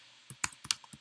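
Someone types on a computer keyboard with a run of quick, light, uneven key clicks close to the microphone, with no talking.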